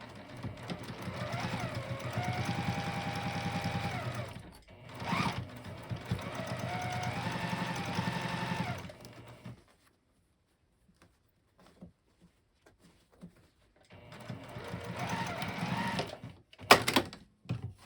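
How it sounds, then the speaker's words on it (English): A sewing machine stitches a 1/4 inch seam on the gusset of a fabric knitting bag in long steady bursts with a rapid mechanical whir, stopping for a quiet pause before starting again, close by. "get this line flat on the sewing machine and sew this gusset with a 1/4 inch seam"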